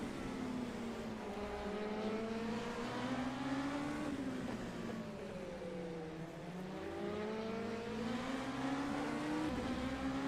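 Sports cars race at Silverstone in a racing video game, their engines droning steadily and rising and falling in pitch as they accelerate and shift, a continuous close engine tone with no talk.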